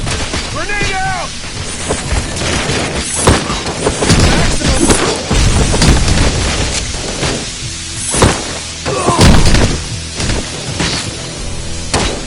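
Grenade blasts and gunfire in the Robocop Rogue City game, several loud booms and crashes scattered over the span, mixed with shouted voices and combat noise.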